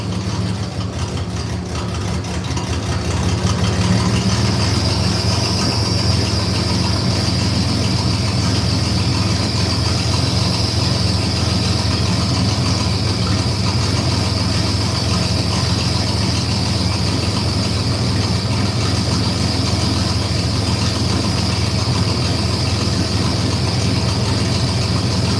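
Fuel pumps run steadily on a 1986 Chevrolet Silverado square-body truck during fuel pump and gas gauge wiring troubleshooting, a constant loud whine and hum with a high squealing tone throughout, close and alone.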